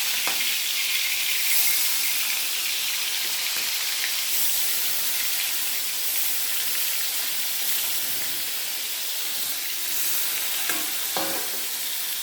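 Turmeric-and-salt-coated prawns frying lightly in oil left over from onion fritters, a close, continuous hiss and crackle of sizzling with small pops, steady and uninterrupted.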